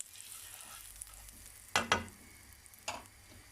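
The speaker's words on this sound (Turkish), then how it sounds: "tavamıza bir parça yağ koyuyoruz ve eritiyoruz arkadaşlar bir güzel" Butter melting in a frying pan before corn-flour crepe batter goes in, giving a quiet steady sizzle with a few louder clattering knocks of utensil against pan, no speech.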